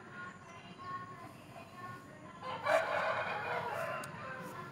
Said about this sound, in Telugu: చూడండి ఎలా ఉంది కోడి